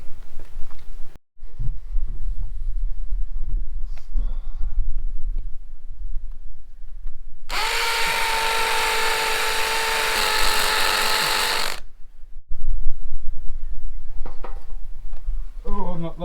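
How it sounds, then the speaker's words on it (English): A power drill with a masonry bit bores into the corner wall of a house, a loud steady high whine lasting about four seconds between quieter stretches of handling and outdoor noise. "I'm just going to mount the bracket to the corner of the building up there with a masonry drill bit."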